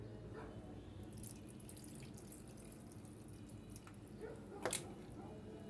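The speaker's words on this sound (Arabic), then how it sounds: "هنحط حبه ميه صغيرين" Water trickles and splashes into a pot of chicken kofta over potatoes at close range, a steady pour with a brief louder splash near the end.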